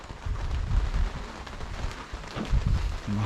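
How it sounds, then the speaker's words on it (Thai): Rain falls steadily at the Chiang Khan skywalk, a dense, even patter with soft low thuds throughout, near and moderately loud with no voices. "ฝนตกจนได้ทุกคน"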